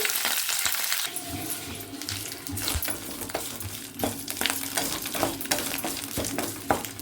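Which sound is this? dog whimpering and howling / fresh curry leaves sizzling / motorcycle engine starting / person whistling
fresh curry leaves sizzling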